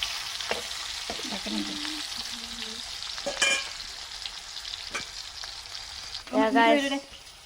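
Meat and onion frying in a pan give a steady, close sizzle, with a few clinks and a short tonal burst of clatter near the end.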